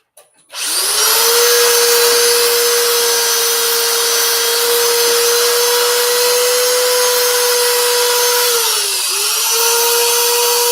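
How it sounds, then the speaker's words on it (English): Steady whine of a woodturning lathe spinning a workpiece while sandpaper is held against it, starting abruptly and running loud and continuous with a brief dip in pitch near the end. "See, I got to do the sanding here."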